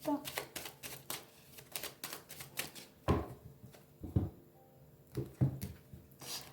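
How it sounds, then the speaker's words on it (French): Tarot cards cut and shuffled by hand, a run of quick papery riffles and soft slaps close by, with a voice speaking over them. "Allez, on va faire la coupe."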